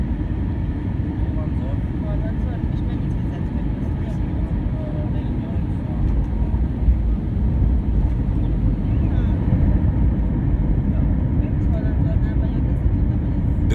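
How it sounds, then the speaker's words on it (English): An Airbus A380 airliner going around on short final produces a low, continuous engine rumble that stays steady throughout, with a voice talking over it. "This Airbus A380 became unstabilized on short final, forcing it to go around."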